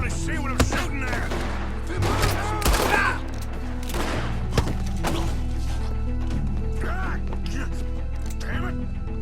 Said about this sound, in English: Hardly see what I'm shooting at.